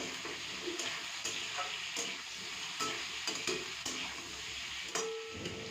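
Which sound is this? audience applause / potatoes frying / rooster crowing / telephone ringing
potatoes frying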